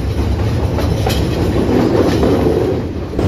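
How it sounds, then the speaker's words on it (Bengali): Train rolling on rails through the Sri Lankan hill country between Nanu Oya and Ella, a steady close rumble with rhythmic clickety-clack of wheels on rail joints, continuous and alone without talk. "আজ অব্দি যত ট্রেন জার্নি করেছি কোনো সন্দেহ নেই এই ট্রেন জার্নিটা the best, Apurba train journey."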